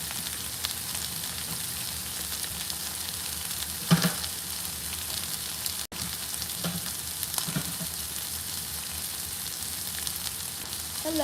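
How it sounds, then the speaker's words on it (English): Sirloin steak sizzles steadily in a hot pan, a constant hiss of frying with a couple of soft utensil clicks and stirring sounds, no talk. "Currently cooking a steak, which came out pretty good."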